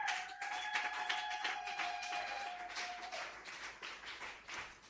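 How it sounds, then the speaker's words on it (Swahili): A congregation at a church prayer service breaks into applause, a dense wash of clapping that stays steady and then slowly thins out. A sustained tone fades away early on. "Mpe Yesu makofi"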